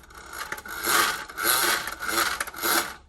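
A vintage boxed Space Fighter Rocket toy makes its built-in engine noise, a ratcheting mechanical whirr that swells and fades in about four rhythmic pulses, close and fairly quiet.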